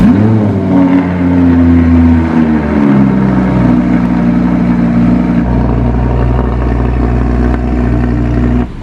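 A rebuilt Audi R8 V10 engine cranks and fires up, then holds a loud, close rumbling idle with rises and falls in pitch as it is revved, continuous with no talk over it.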